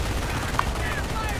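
Machine-gun turret fire in the 2006 World War II strategy game Company of Heroes, rapid steady bursts under a dense battle din, with players talking over it.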